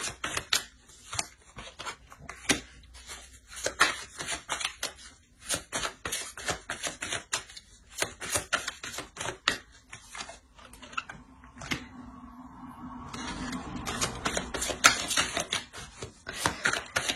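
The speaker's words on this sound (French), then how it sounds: "On va rajouter une carte." Tarot cards, including major arcana, drawn and handled at close range: a busy run of crisp flicks, slaps and rustles with brief pauses, growing into a denser sliding shuffle near the end, no talking.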